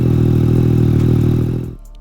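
A 2020 Yamaha MT-09 SP with an Akrapovic carbon exhaust runs at a steady, deep, throbbing idle up close, then the engine cuts off and the sound dies away.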